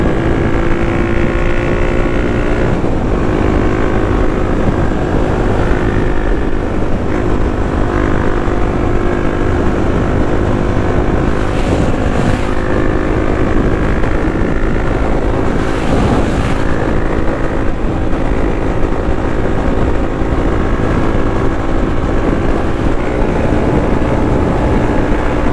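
A Kawasaki KLX300 dual-sport motorcycle cruising on the highway, a constant loud engine drone buried in heavy wind rush that barely changes for the whole stretch.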